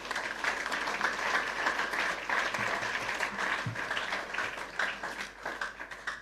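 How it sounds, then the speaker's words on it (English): Students applaud at a political student-wing rally, a dense steady wash of many hands clapping that runs unbroken for several seconds, moderately loud and somewhat distant, with faint voices mixed in. "Clap for yourself."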